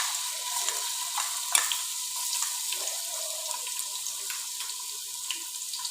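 Garlic fries in desi ghee for mutton yakhni soup, a faint, even sizzle with soft crackles running steadily throughout, with no talk.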